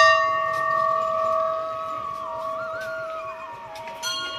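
A temple bell rings at the Maa Bhagwati temple in Deghat, its clear metallic tone sustaining and slowly decaying, with a faint second strike near the end and no talk.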